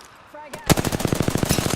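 Rapid automatic gunfire in the video game Apex Legends, a dense close burst of rhythmic shots starting after a short quiet lead-in and running to the end.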